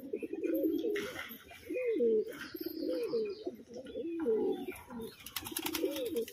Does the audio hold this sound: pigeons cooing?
yes